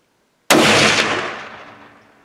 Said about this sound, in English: As soon as he gives you a shot, go ahead and shoot him.